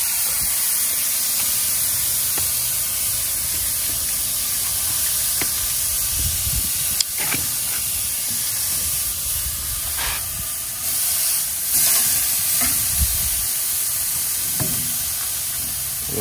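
Food on a barbecue grill sizzles and hisses steadily over low heat, a continuous close spray-like crackle with a few soft knocks and no talking.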